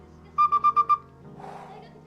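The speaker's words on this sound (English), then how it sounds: "Yo, this whistle's nice. This whistle's nice." A whistle gives five quick, bright, evenly spaced toots close by, followed by a soft breathy trailing sound.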